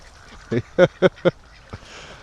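Ducks being herded toward a lake by a dog, four quick quacks in a row followed by one softer quack, close and distinct over quiet outdoor background.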